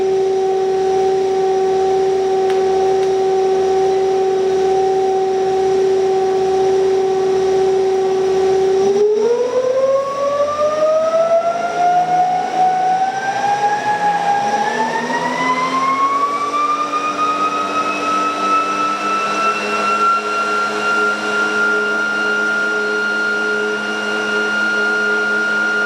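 ReGenX generator motor with three switched coils on an ebike spinning up, a steady loud tonal whine that rises smoothly in pitch over several seconds and then holds high and constant.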